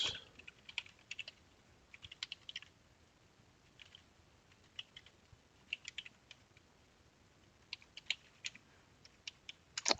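Keys on a computer keyboard are tapped in quick, irregular bursts of clicks while a password is entered, soft and close in an otherwise quiet room with no talking.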